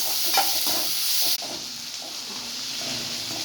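Onions sauté in hot oil for a poori potato masala, a steady close sizzle that drops to a softer hiss partway through, with faint stirring movements.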